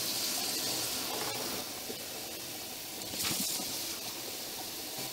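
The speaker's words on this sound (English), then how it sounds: "now I'll just quickly check to get the water from the faucet to also kind of like 38 degrees" Tap water runs steadily from a faucet to rinse color film during home development, a continuous hissing stream with no one speaking.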